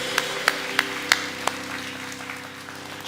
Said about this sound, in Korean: 우리를 인도하신 주님께 모든 영광의 박수 올려드립니다